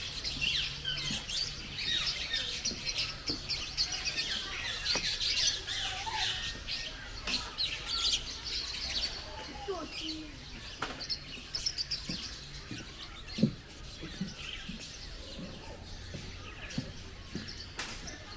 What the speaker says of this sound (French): on est dans la cage avec les oiseaux